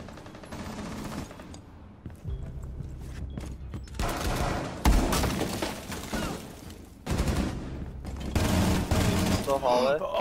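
Sustained light machine gun fire from Rainbow Six Siege, a dense rapid rattle of shots that fills several stretches and comes close and loud, with voices talking over parts of it.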